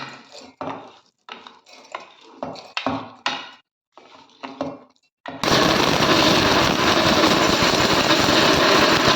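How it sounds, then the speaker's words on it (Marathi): A few clinks and clatters, then a loud electric mixer grinder grinding roasted sambar masala spices kicks in halfway through and whirs steadily and continuously to the end. "आता मिक्सरच्या जारमध्ये टाकते आणि बारीक वाटून घेते"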